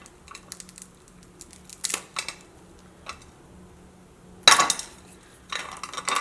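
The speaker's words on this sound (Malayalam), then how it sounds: "ഇത് ഫസ്റ്റ് ഇതേപോലെ കുറച്ച് ചെറുതായിട്ടൊന്ന് പൊടിക്കുക" Hardened butterscotch caramel candy is broken into small pieces, heard as scattered sharp cracks and clinks with a few louder crunching bursts between quiet gaps.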